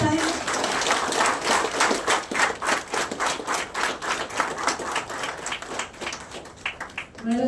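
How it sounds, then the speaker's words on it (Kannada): Audience at an International Women's Day event in Mysuru clapping in a steady, rhythmic beat, fairly close and continuous, with faint voices underneath. "ಎಲ್ಲರೂ ಚಪ್ಪಾಳೆ ಹೊಡಿರಿ ಆ ತಾಯಿ."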